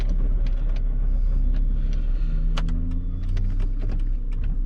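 A car on a road trip with a failing clutch: a steady, loud low engine rumble with shifting tonal whines and scattered clicks and knocks, continuous throughout.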